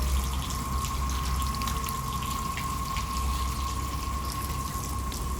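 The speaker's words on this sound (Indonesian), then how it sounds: "Kita juga bisa cuci kaki, men, di sini. Ada pancuran yang tersembunyi." Water runs steadily from a hidden spout meant for washing feet inside a building in Jogja, a constant, close rushing flow with no talk.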